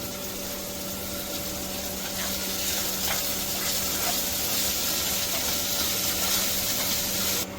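Onion and garlic frying in a pan, a steady close sizzle with broadband hiss and a low constant hum running under it for the full length, with no talking.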